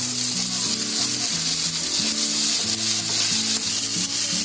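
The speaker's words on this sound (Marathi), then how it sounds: "आता त्याच्यामध्ये आपला भात टाकायचा" Cooked rice fries on a hot tawa for mutton pulao, giving a loud, continuous crackling sizzle up close, with a low steady hum running beneath and no voices.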